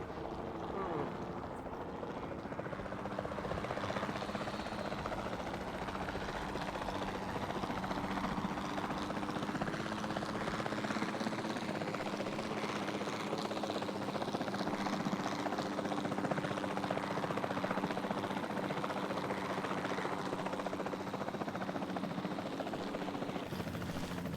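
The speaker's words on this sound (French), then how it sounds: "la meilleure chose à faire serait de l'endormir depuis les airs avec un hélico de capture" A capture helicopter in a Jurassic Park video game flies overhead with a steady, loud rotor and engine drone that stays constant throughout.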